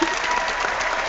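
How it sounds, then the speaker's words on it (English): A live audience at a retro-themed show breaks into steady, loud applause, a dense wash of clapping filling the whole moment. "that deserves a round of applause"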